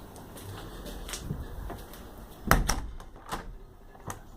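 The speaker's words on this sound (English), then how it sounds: "Door opens." A door fitted with an Arduino gesture-controlled electric lock opens with a quiet click and clatter in the middle, amid faint mechanical ticking and light handling noises.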